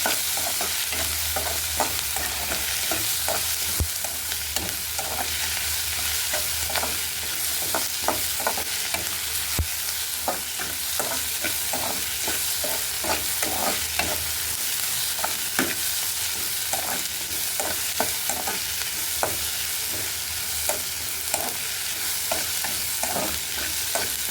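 Capsicum and onion sautéing in a pan, giving a loud, steady, hissing sizzle throughout, with frequent quick clicks and scrapes of a spatula stirring, all close up and with no voices.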